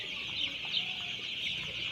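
Twelve-day-old broiler chickens feed and drink in a farm shed, giving soft scattered clucks over a steady hiss of many birds, faint and fairly close.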